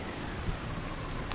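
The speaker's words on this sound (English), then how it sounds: "And there's the rain that we knew was coming in the forecast at some point." Steady rain in the video game Farming Simulator 25, a broad even hiss filling the background at a constant, moderate level with no talk over it.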